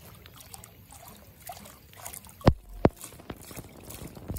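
Motion duck decoy churning in water, a faint continuous trickle and splash punctuated by two sharp, close slaps of water in quick succession, with light dribbling afterward.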